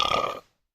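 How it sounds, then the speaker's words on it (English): A single short burp, close and moderately loud, lasting under half a second and trailing off into silence. "And you burp right after that."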